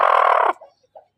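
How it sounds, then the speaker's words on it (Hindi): A purebred hen gives one loud, harsh squawking cluck close by, then a couple of faint soft clucks follow in quiet. "बहुत नस्ली मुर्गी है।"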